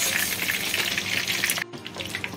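Fish pakoras frying in hot oil in a pan, giving a dense, steady crackling sizzle that stays loud throughout, with a brief dip midway before the bubbling resumes.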